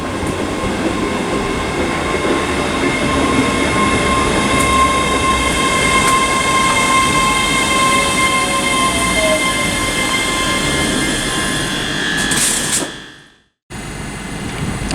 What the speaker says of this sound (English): arriving now is the 1650 ScotRail service to Glasgow Queen Street from Edinburgh, which is 385045.